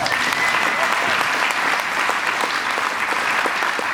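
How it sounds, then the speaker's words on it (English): A crowd at a chamber of commerce annual meeting gives a singer named Vanessa another round of applause, dense and steady clapping filling the room evenly throughout, with a faint voice underneath. "can we give her another round of applause?"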